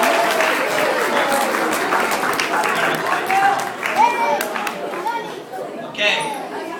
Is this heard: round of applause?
yes